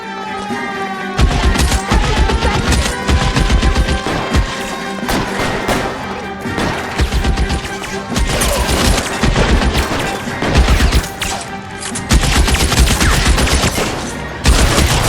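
Dense, continuous gunfire from the video game L.A. Noire, with overlapping shots, bursts and thudding impacts over a game music bed, loud and sustained throughout, with no clear talk.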